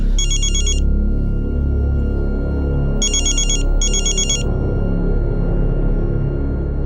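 An electronic phone ringtone chirps in three short, bright bursts with a pause after the first, over a low background murmur.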